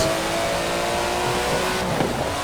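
A car engine accelerates in Forza Horizon 4's Eliminator mode, a loud, steady engine drone that keeps climbing, with a faint tire sound near the end and no voices.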